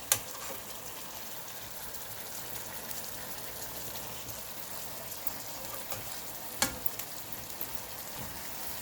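Pork chops sizzle in a pan as they are turned, a faint, even frying hiss with a few sharp clicks from the utensil and pan, no voices.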